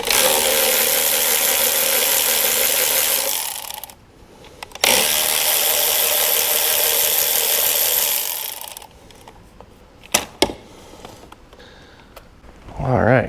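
A ratchet spins out the bolts holding down the beauty cover on a Toyota 2JZ engine, a steady run of rapid clicking that stops briefly, resumes for several seconds, then gives way to a few scattered knocks.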